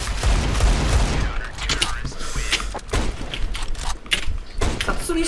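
Rapid bursts of gunfire in a video game, with sharp repeated shots and thuds, mixed with excited talking from players over the game audio.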